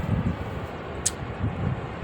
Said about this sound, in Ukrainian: Вітер опять розгулявся.